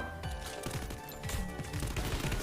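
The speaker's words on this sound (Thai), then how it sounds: "เขายิงอะไรกันอยู่ข้างนอกนั่น" Rapid automatic gunfire bursts and explosions from the video game Garena Free Fire, dense and continuous across the short stretch, loud and close under game sound.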